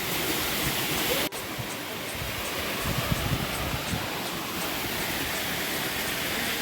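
Steady broadband rush of falling water from a small waterfall on a village stream, close and continuous, with a single sharp click near the start and no clear talk.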